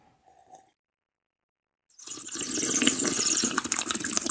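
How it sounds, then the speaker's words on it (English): Water gurgled in a person's mouth, bubbling and sloshing steadily and fairly close after about two seconds of near silence, with no talking. "that noise you just made with your mouth in the water"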